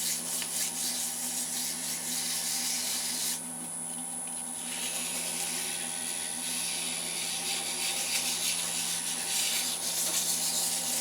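Steady abrasive rubbing of a power sander scuffing resin and pine cone blanks, a continuous loud grinding hiss with a brief dip partway through, running alone without voices.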